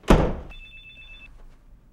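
A short electronic telephone ring, a single steady tone lasting under a second, follows a loud thump and then cuts off into quiet room noise.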